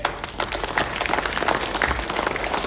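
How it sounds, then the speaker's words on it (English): A crowd at a panel discussion on agile organisations bursts into steady, loud applause that stays dense and continuous throughout the short stretch, with no talking over it. "Please give 30 seconds cobra applause"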